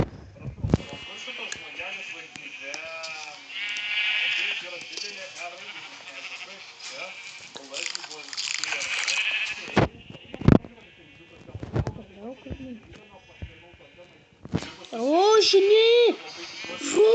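Colored sheep in the video game Minecraft bleat several times in short wavering calls, mixed with game clicks and effects while a person talks throughout.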